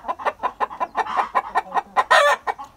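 An Ameraucana chicken clucks in a quick, steady series of short calls, close by and fairly loud, with no talking.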